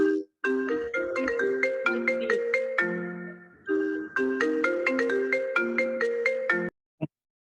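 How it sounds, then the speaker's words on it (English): A phone ringtone plays a repeating melodic pattern during an online class call, fairly loud and clear, pausing once briefly before resuming and then cutting off. "whoever got a phone ringing"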